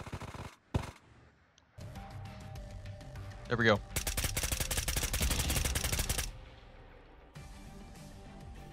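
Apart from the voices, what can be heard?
gunfire in a video game gunfight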